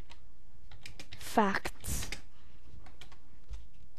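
Keys clatter on a computer keyboard while typing in Notepad, a scatter of light clicks before and after a short spoken word, the tapping quick and close.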